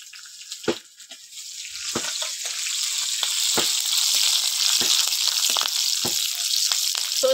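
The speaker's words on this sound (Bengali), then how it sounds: "তেলে এবার কালো জিরে আর কাঁচা লঙ্কা ফোড়ন দেব।" Nigella seeds and green chillies temper in hot oil for a vegetarian bhindi dish, producing a loud, continuous bright sizzle broken by sharp crackling pops.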